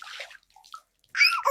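Water poured over a sleeping man on a cold day, short splashing bursts at the start and a louder rushing splash near the end, separated by near silence.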